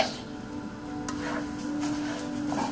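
Rice with chicken broth frying in a pan, a soft continuous sizzle with a faint steady hum and occasional light stirring clicks, close up and without talking.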